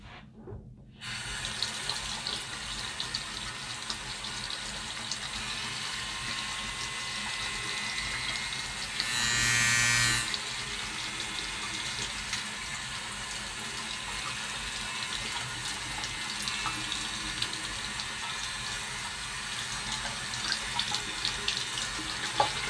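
Tap water runs steadily over a running cordless nose and ear hair trimmer under the faucet. The rinsing is loud and continuous, with a brief change in tone partway through.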